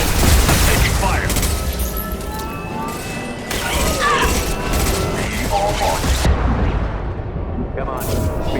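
Gunfire and explosions in the video game Mass Effect 2, with dense booming bursts and rattling shots filling the scene while voices talk over the battle.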